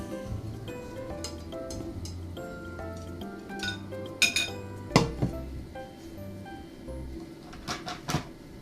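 Dishes and cutlery clink quietly now and then as pan-fried sweet potatoes are set aside on a plate, with a few sharper clatters midway, while a low hum runs underneath.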